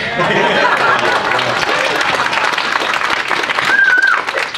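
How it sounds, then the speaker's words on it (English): A convention panel audience breaks into loud applause at a horror film reunion, a close, dense roar of clapping mixed with cheers and chatter, with a single whistle near the end. "I want a big round of applause for Eli for shooting Hitler in the face."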